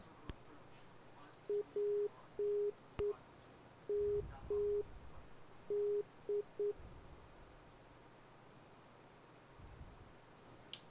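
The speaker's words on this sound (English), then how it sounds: "So we can hear the Morse code of the Palmdale VOR." The Palmdale VOR's Morse code identifier sounds in the X-Plane flight simulator while flying the Airfoillabs Cessna 172: a clean, steady tone keyed into short and long beeps over faint static hiss, briefly repeating.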